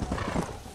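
Horse hooves clip-clopping in the video game Red Dead Redemption: Undead Nightmare, a brief close burst of steady hoofbeats mixed with a soft whinny-like snort over a low ambient bed.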